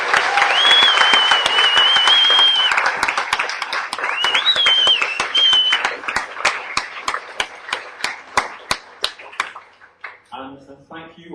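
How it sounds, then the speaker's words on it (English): An audience at an Ignite talks evening gives the speakers a big round of applause. It opens with dense clapping and a couple of high whistles, then thins to a few scattered claps before a voice resumes speaking. "just a big round of applause to all our speakers tonight"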